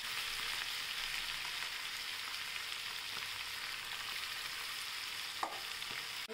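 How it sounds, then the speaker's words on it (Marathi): Spinach leaves frying in hot oil left over from crisping potatoes, a steady dense sizzle that holds evenly throughout with one brief clink near the end. "तेलात आपण असे पालक तळूया।"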